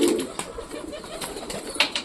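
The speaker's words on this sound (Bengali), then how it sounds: "তো এবার তোমাদের শখ করাবো আরো একটা পায়রা, আমাদের সুলতানের বেবি শখ করাবো।" A pet pigeon coos softly at close range in a domestic loft, with several low, rolling coos spread through the moment and light background rustle.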